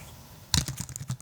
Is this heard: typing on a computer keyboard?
yes